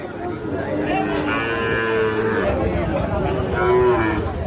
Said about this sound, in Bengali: শাহিওয়াল জাতের ষাঁড় বাছুর।